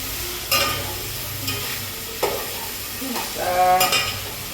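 Chilies frying in hot oil in a pan while being stirred: a steady sizzle with a few sharp scraping stirs, and a louder crackling burst near the end.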